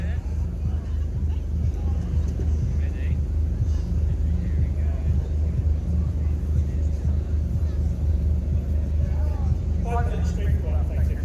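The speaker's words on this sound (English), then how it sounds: "So a steam car taking to the hill very shortly here at Cop Hill Climb." Steam car starting up the Kop Hill Climb, a low, steady mechanical rumble and hiss that carries on throughout, with a commentator talking over it and crowd noise around.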